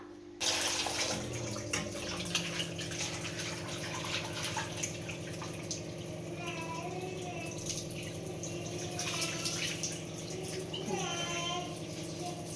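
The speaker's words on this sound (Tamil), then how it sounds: "இப்போ இதை வாஷ் பண்ணலாம்." Mint leaves being washed under a running kitchen tap, a steady close stream of water splashing continuously with small shifts in the flow as the leaves are handled.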